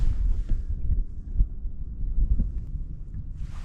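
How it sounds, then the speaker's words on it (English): Strong outdoor wind gusts during winter bass fishing off a point, a steady low roar buffeting the microphone without a break, with no voices. "Now that that wind's picked up, it's blowing directly onto my hands."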